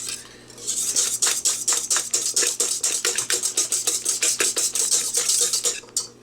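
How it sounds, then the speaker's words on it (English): A utensil stirs a sugar and egg white mixture for tiramisu in a bowl, rapid rhythmic scraping and clinking strokes repeating close up for several seconds before stopping. "So you want to make sure that at all times you keep stirring."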